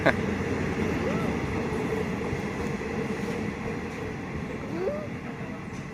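A train on the southern line rumbles past close by at Ban Khu Bua, Ratchaburi, Thailand, a steady rolling roar with faint screeching tones rising over it, continuous throughout.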